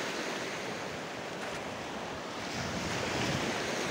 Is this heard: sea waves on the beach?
yes